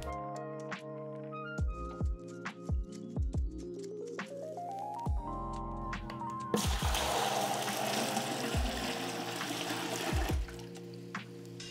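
Water poured into a new saltwater reef aquarium: a sustained rushing, splashing pour begins midway and runs for several seconds, after a stretch of ringing tonal sounds that rise in pitch.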